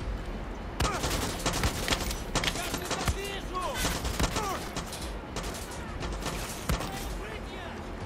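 Dense video game gunfire, a steady barrage of rapid shots and bursts, with voices talking over it throughout.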